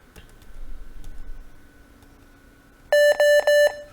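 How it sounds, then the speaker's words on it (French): An HP computer starting up as the escape key is pressed at boot, heard as faint clicks followed by three loud, evenly spaced electronic beeps near the end. "on va appuyer sur la touche échappe."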